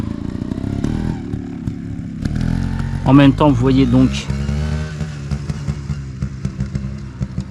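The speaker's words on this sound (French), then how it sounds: "la jolie moto" A motorcycle on a mountain road at Mont Granier passes close by, its engine rising in a brief loud revving burst before fading, with someone talking over it.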